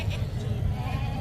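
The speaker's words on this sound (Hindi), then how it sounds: "अच्छा ये बकरी भाई के पास आई है" A goat at a Faisalabad livestock market lets out a loud, close bleat over a steady murmur of crowd voices and talk.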